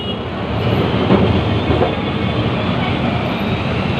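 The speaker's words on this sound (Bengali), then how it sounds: "এই ট্রাম" A Kolkata tram runs towards Gariahat with a loud, steady rumble and clatter of wheels on rails, heard from on board.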